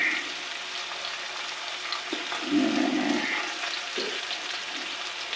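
Steaks sear in a hot pan before braising, a steady, close broadband sizzle holding throughout with slight swells.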